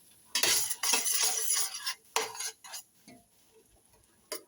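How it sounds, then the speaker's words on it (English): Chilli with tomatoes being stirred in a pot: a spoon scrapes and clanks against the metal in a few close, fairly loud bursts with short gaps between them, and no one talks. "And give it a stir."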